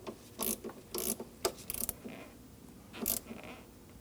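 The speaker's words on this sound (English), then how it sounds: "With our 10mm wrench, we will tighten down the nut." A 10mm ratchet wrench tightens the negative battery terminal nut on an Audi Q5, giving a series of quick, close clicking bursts in uneven rhythm over about four seconds.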